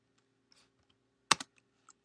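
A few scattered keystrokes on a computer keyboard, faint and close, with a brief louder double clack in the middle and otherwise near silence.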